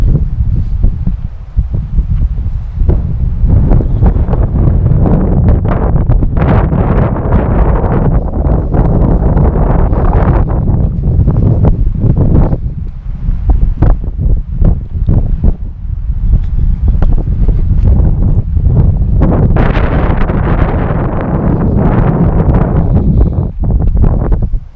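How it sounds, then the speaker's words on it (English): Strong wind at a lakeside campsite buffets the microphone in a continuous roaring rumble, with gusts rising and falling and some rustling through the whole stretch. "The wind's going to get us a little bit."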